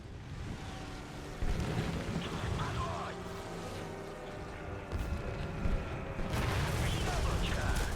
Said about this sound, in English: but that was a heck of an explosion.